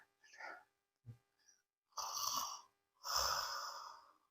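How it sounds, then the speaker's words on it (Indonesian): A man asleep on a toll-road car journey snores in rough, airy bursts: a few short snorts, then two longer rasping breaths, each about half a second, heard faint and close in a quiet space. "Dia bisa tidur pula sekali sampai mendengkur, ya ngorok itu. Itu tidur mendengkur keras"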